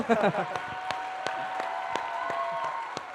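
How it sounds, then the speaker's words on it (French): An audience clapping for a young woman production lead at a large event: a brief burst of claps settles into sparse, evenly spaced hand claps over a faint sustained tone in the room. "applaudissez-la fort"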